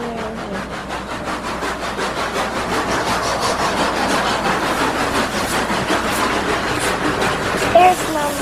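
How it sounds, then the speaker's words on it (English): A freight train hauled by a steam engine rolls past with a tanker car in its consist, a steady rhythmic grinding and rumble of wheels on rail held at close range throughout, with one brief sharp squeal near the end. "Tanker car. Another steam engine."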